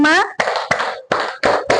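Children in a kindergarten class clap hands in a counted rhythm, sharp bursts of claps alternating with a voice counting aloud, close and clear.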